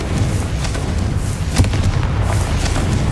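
An explosion spell in the Hogwarts Legacy video game booms with a dense, continuous rumble. One sharper blast stands out in the middle of the sustained roar.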